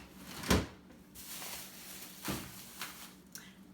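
Kitchen snack drawer pulled open with a soft thump, followed by a second slide and faint rattles of its contents in a quiet room.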